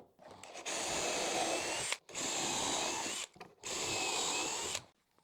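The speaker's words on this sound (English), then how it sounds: "put some pocket holes on the bottom" A power drill bores pocket holes into the wooden base of a large Christmas tree, three close, loud bursts of steady whirring of about a second and a half each, separated by short pauses, no voices.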